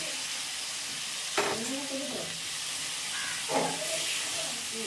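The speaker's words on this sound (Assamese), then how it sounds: "এতিয়া এইখিনি অকণমান দেৰি ভাজিম" Taro leaves fry in a pan with a constant bright sizzle and hiss, broken by two louder scraping stirs partway through, and no voice over it.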